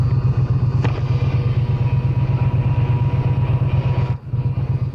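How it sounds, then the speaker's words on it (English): A Triumph Speed Twin 1200 RS idles hot in traffic with its cooling fan running, a loud, close, steady pulsing engine rumble that dips briefly near the end. "The fan has already turned on here, guys."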